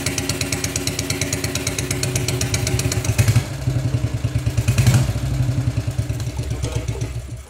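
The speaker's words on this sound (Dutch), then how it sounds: "Dit is een Horex Regina, een 400cc 1-cilinder." Horex Regina 400cc single-cylinder motorcycle engine running steadily nearby, a rapid even thumping pulse with mechanical clatter and a brief rev swell, heard alone without talk.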